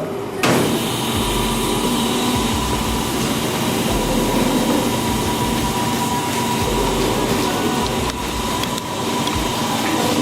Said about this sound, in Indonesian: Jika cooling sudah menyala, cooling air sudah menyala, kita nyalakan mata pisaunya, mata gerinda.